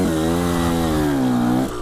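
A KTM 125 SX two-stroke motorcycle engine revs steadily and loudly up close for almost two seconds, holding a high buzzing pitch before it drops off near the end.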